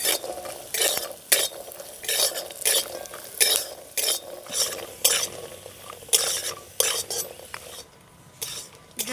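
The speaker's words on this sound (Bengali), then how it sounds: "এবার আমি এর মধ্যে দিয়ে দেবো কয়েকটা কিশমিশ এবার আরেকটু ভেজে নেবো এগুলোকে" Raisins and nuts frying in a pan for semolina halwa, soft sizzling broken up by repeated scraping strokes of a spoon stirring.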